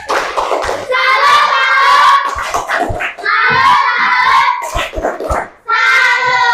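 A classroom of pupils performs a tepuk salut clapping chant, loud voices chanting in unison in bursts with sharp rhythmic claps between phrases.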